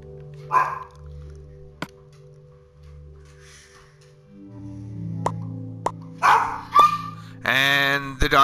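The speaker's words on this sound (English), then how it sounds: "And the doggies are going." Dogs bark at the mailman in sharp, scattered bursts, some near and some farther off, with yips between them. A person talks partway through.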